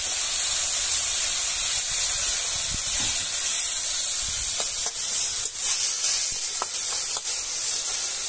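Water poured into a hot pan during cooking of a banana-flower dish, producing a loud, continuous steamy hiss with scattered crackles and pops in the second half.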